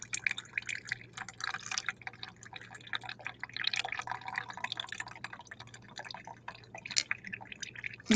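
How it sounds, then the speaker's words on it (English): Water poured slowly into a paper coffee filter seeps and drips through the paper, giving a continuous patter of small irregular drips and trickles, close and fairly quiet, with no talking. "That's the water seeping through the paper."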